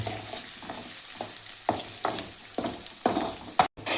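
Onions fry in a pan for a yogurt chicken dish, a steady sizzle broken by repeated spatula strokes scraping and stirring at a regular pace. A sharp clatter comes at the end, and no one speaks.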